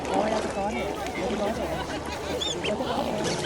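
Large, plump white swans on Lake Yamanaka in Japan give honking, goose-like calls over lapping water, mixed with steady nearby chatter from people.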